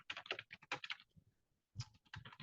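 Code is typed on a computer keyboard in quick, close clicking bursts, then a brief pause before a second run of keystrokes.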